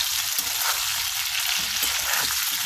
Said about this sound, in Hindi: भिंडियों को हाई फ्लेम पर फ्राई कर लेंगे